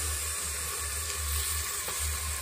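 Chicken pieces sizzle steadily in hot oil seasoned with cumin powder, turmeric, chili powder, Kashmiri red chili and salt, a close, continuous crackling fry with a low hum beneath and no voices.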